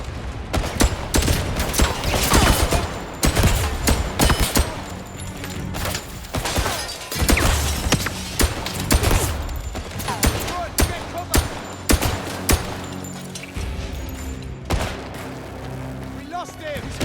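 Gunfire in the video game 007 First Light: bursts of rapid automatic fire and single loud shots crack in irregular volleys, with crashes mixed in, while voices call out between the shots.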